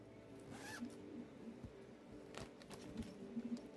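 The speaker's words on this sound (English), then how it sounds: "We've got a little zipper pocket to take it off." Zipper on a thick foam cushion cover being pulled open, several short scratchy zips with small pauses between them, close and fairly quiet with no talking.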